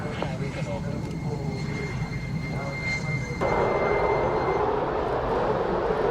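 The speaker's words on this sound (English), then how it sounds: "Eurofighter Typhoon from the Spanish Air Force." A Spanish Air Force Eurofighter Typhoon jet roars as a continuous loud engine rumble that grows fuller and harsher partway through, with a voice talking over it early on.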